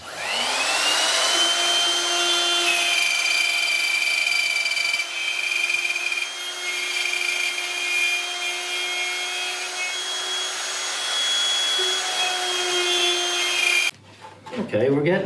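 A wood router fitted with a quarter-inch bit cuts into a wooden round tabletop, giving a loud, steady high-pitched motor whine that holds for about fourteen seconds before cutting off abruptly at the end.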